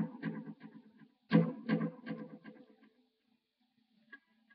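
Lead guitar runs through a Boss DD7 analog delay set to quarter notes and a Boss DD5 dotted-eighth delay, with short plucked note bursts and repeats trailing off, then near silence with a faint last note.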